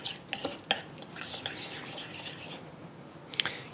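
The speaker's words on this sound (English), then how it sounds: "we're just gonna give this a stir." A utensil stirs a spicy, numbing Szechuan chili noodle sauce in a dish, giving faint scraping swishes with a few sharp clinks against the bowl, quiet and close.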